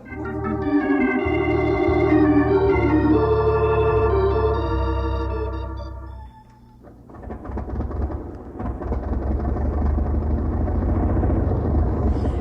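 An early motor car being driven in an Indian setting in a Dr. Ida Scudder audio drama, a rumbling, shaking engine with a tonal hum, then steady rattling road noise after a brief dip.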